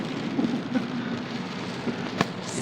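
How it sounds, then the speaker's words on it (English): Heavy rain drums steadily on the windows of a moving car in Dubai, a dense continuous wash of droplets close to the glass, with a few louder splats and one sharp knock near the end. "my side mirrors and my windows are getting full of rain and water"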